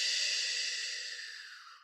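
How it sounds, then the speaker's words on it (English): A single slow, steady exhale of breathing is heard up close, a soft airy hiss that gradually tapers off with no voices over it. "feel your body fill with air on the inhale and"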